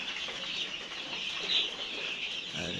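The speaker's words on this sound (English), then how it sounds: "So here right now I have 150 chicks." Roughly 150 two-week-old rainbow rooster chicks in a brooder make a dense, continuous chorus of high peeping that stays fairly loud and close throughout.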